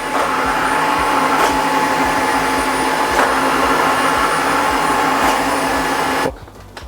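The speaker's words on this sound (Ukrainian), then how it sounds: "Пилосос готовий, можемо починати прибирання" A Dreame H15 Pro Heat wet vacuum cleaner whirs loudly and steadily nearby with faint rhythmic clicks, then cuts off abruptly near the end.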